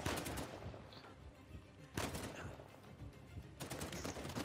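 In Uncharted 4, a gun fires in repeated bursts over a constant, dense background of game action, with the shots coming in waves that sound fairly distant.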